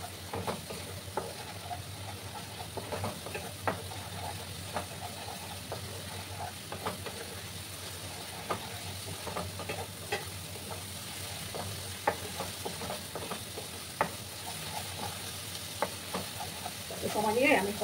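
Cumin and turmeric powder sautéing in a pan for a boal fish curry with potatoes, giving a steady, faint sizzle under intermittent scraping stirs, with a soft voice heard briefly.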